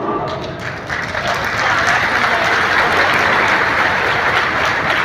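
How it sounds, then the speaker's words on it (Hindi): Thunderous applause from a large crowd at an election campaign rally, a dense, roaring wash of clapping that swells after the first second and stays loud and steady, with voices mixed into the din. "जो मेरे कानों में तालियों की गड़गड़ाहट की आवाज सुन रहा हूं"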